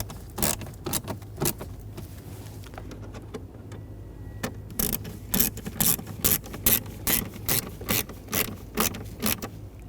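Ratchet tightening screws on the HVAC blower motor assembly of a 2009-2013 BMW 328i xDrive, sparse clicks at first, then a fast regular run of sharp ratcheting clicks, close up.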